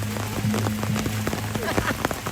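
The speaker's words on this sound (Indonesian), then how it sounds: "kami kedinginan guys. Hujan." Steady rain patters on surfaces at an outdoor funeral gathering at a Toraja tongkonan, a continuous hiss under voices talking nearby.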